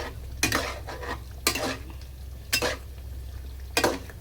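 A utensil scrapes through paratha ingredients in a frying pan in four distinct strokes about a second apart. A faint background hum runs between the strokes.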